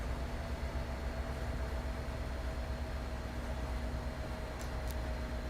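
An Amtrak Acela train powering up on the Boston–Providence Northeast Corridor in Train Sim World 3: a steady, close rolling rumble and broadband hum that holds evenly throughout, with a couple of faint high clicks near the end.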